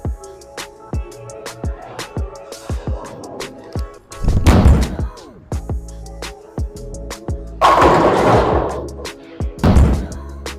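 A Harsh Reality bowling ball rolls down a lane at a Las Vegas bowling center and strikes the pins, with loud crashing bursts over a busy background of rumbling lanes and clattering from other bowlers.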